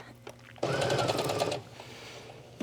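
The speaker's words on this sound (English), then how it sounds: "I'm going to start sewing." A sewing machine stitching the back seam of yoga pants runs in one close, steady buzzing burst of about a second after a few faint handling clicks, then stops.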